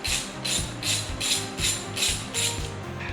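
Ratchet wrench tightening the two exhaust bolts on a 2022 Honda Monkey fitted with a Yoshimura exhaust, a steady run of about seven quick clicking strokes in even rhythm, close and clear with no talking.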